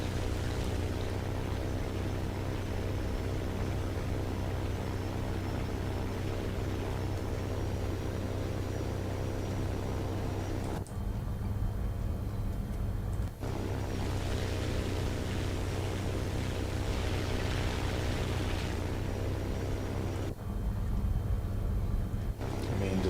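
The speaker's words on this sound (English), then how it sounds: "the tips of the propellers are breaking the sound barrier, hence the sound" Several propeller-driven fighter aircraft engines roar loud and steady in a War Thunder air event, a dense continuous drone with buzzing harmonics that drops out briefly twice.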